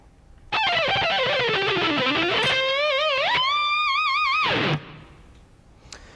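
The closing run of a guitar solo rings out on a distorted electric guitar, descending rapid notes giving way to wide vibrato-laden bends, played alone and stopping sharply.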